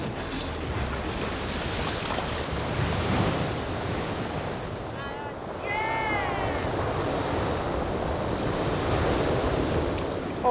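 Ocean surf washes continuously onto a beach, a broad rushing roar mixed with heavy wind buffeting the microphone, loud and close throughout.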